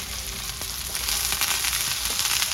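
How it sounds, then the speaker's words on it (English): Filipino-style breakfast frying in a pan over an outdoor wood fire, a loud continuous sizzle and crackle up close, with brief stirring scrapes mixed in and no voices. "I'm gonna stir these up a little bit."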